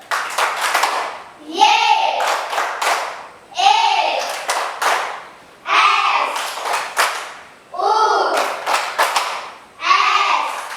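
A class of children performs a rhythmic clapping routine in a classroom, loud close bursts of claps in repeated patterns separated by brief pauses, with children's voices calling and singing along between the claps.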